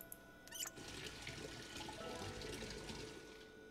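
Tap water runs steadily into an empty drinking-water bottle, a continuous rushing flow with a brief splash near the start, fairly close and alone with no voices.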